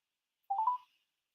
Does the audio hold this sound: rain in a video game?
no